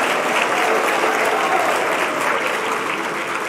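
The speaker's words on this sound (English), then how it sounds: "can we give another big round of applause to Francisco for leading us in music?" An audience gives a sustained round of applause for a music leader at a justice-themed gathering, steady and fairly close with dense overlapping claps and no clear talk.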